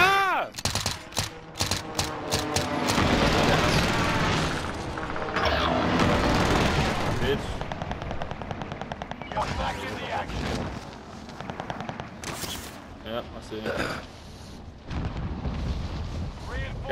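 Rapid gunfire and explosive booms from a Call of Duty: Modern Warfare match with sniping from a tower, loud and dense throughout, with bursts of shots and blasts under excited player talk.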